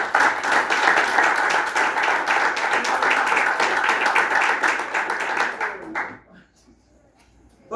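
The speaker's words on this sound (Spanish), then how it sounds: "Denle un aplauso al Señor." An audience at a sermon seminar applauds loudly and steadily for about six seconds, a thick wash of clapping hands that quickly fades out into near silence.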